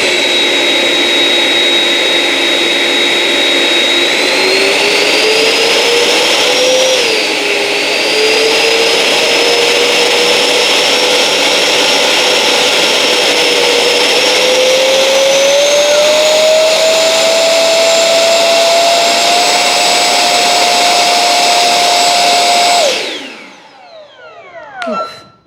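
Sustained loud whine of a 64mm electric ducted fan on an FMS F-15 model running under throttle, pitch rising in steps over about twenty seconds before cutting off and spinning down.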